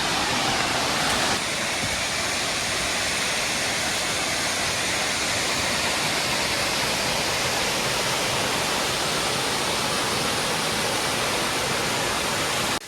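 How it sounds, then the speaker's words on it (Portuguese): Cachoeira Bonita, a large-volume waterfall in Caparaó National Park, Brazil, pours out a dense, steady roar that fills the whole stretch at close range, loud and unbroken, with no voices. "Chegamos na Cachoeira Bonita."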